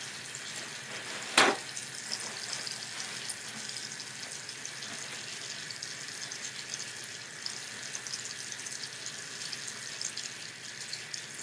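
Tap water running steadily into a sink after handwashing, a faint continuous hiss with a single sharp knock near the start.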